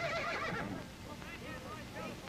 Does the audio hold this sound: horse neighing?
yes